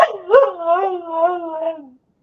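A dog gives a single drawn-out vocal call, close and fairly loud, more a wavering howl-like whine than sharp barks, fading out after about two seconds.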